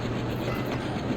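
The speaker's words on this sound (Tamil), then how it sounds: "Departing from சுதியூர் railway station." Train pulling out of a railway station in the Trainz Simulator game, a steady rumble of rolling wagons with a faint rhythmic clickety-clack of wheels, continuous and fairly loud, no talking.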